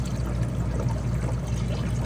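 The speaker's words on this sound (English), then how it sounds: "Now, this is where the water is going into the aquariums." Water pouring steadily into aquariums from a feed line in a fish room, a continuous close splashing flow with no talk over it.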